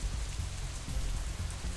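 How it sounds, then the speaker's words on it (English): Steady rain falls outside in the video game Katawa Shoujo, a continuous even hiss of drops on surfaces with a soft low rumble beneath, fairly quiet and unbroken. "it's still raining outside when we exit the Shanghai, though it seems to be letting up a little"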